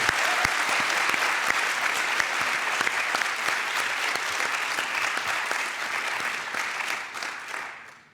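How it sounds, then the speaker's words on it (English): An audience claps at a graduation ceremony, continuous dense applause from a large crowd that holds steady for several seconds before fading out at the end. "so also for you, a round of applause."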